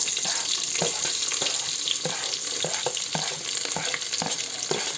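Onions get stirred into a sizzling vegetable biryani mixture in a pan, a steady loud frying hiss broken by repeated rhythmic scraping strokes of the spoon.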